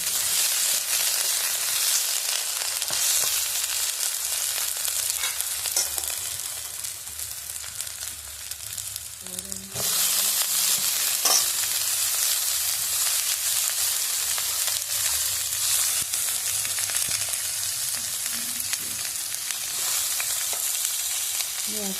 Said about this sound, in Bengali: রাঙালুগুলো ভেজে নেব একটু। কলাগুলো একসাথে দিয়ে দিয়েছি, একটু নেড়ে ওর মধ্যে আমি ডাঁটা দিয়ে দেবো।